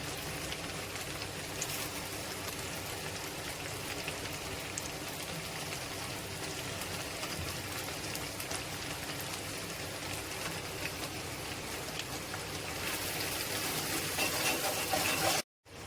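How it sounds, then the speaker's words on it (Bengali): Turmeric, Kashmiri chili powder, coriander powder and salt sauté in hot oil with a steady, dense sizzle that hisses evenly throughout, close and alone with no talking. "আমি এতে হলুদের গুঁড়ো কাশ্মীরি লঙ্কার গুঁড়ো ধনের গুঁড়ো আর অল্প পরিমাণে নুন দিয়ে একটু কষিয়ে নেবো"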